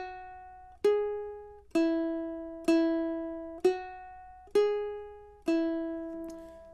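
Frere Jacques picked note by note on the first string of a Loog guitar, six clear plucked tones spaced evenly, each ringing out and decaying before the next, close and alone without talk.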